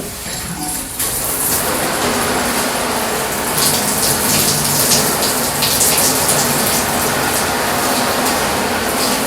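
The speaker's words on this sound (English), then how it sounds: "I'm going to turn on the water and just spray the water on here" Water sprays steadily onto a Repel compact windproof travel umbrella close by, a continuous hissing patter like heavy rain, starting after a brief quieter moment.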